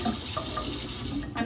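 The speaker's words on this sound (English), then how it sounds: "so I'm just gonna rinse it with water." A kitchen faucet runs steadily as a raw cucumber is rinsed under it for tzatziki, giving a continuous close splashing hiss with no talk.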